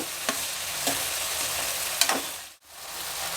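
Field beans fry in oil and ghee over a high flame, a close, steady sizzle broken by a few sharp scrapes of stirring and a brief dropout near the end.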